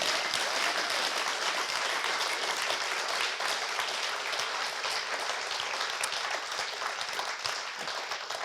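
An audience at a storytelling show applauds the storytellers with dense, sustained clapping that holds steady throughout at moderate distance, with no voices over it.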